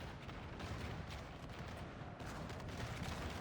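Dense artillery fire from a Napoleonic-era battle in a strategy video game, a continuous rumble of distant cannon booms and crackling volleys rolling on without pause, no voices.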